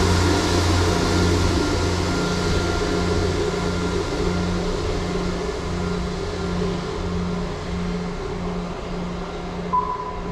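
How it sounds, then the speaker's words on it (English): A broken public address speaker on a Fife Circle railway station platform gives off a steady, low, pulsing beep that repeats throughout over a constant platform hum, with no one talking. "Apologise for that beeping noise"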